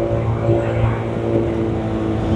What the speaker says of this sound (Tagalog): medyo maingay yung makina